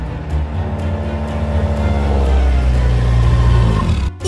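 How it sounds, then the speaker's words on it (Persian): A car driving by close and loud, its engine note building and sweeping past over about four seconds before cutting off abruptly. "انگار داداش دیما قصد داره با ماشینش ما رو بترسونه"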